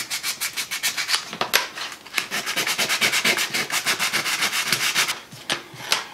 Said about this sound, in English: I have a piece of 180 grit sandpaper right here